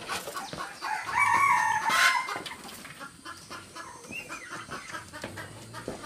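Chickens cluck and squawk inside a coop in the forest, with one loud crowing call near the start and busy overlapping clucks continuing close by until the end.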